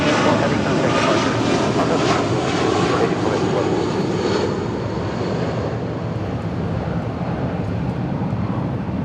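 A heavy jet airliner departs LAX, a loud, sustained engine roar close by that gradually eases, with a voice talking faintly beneath it.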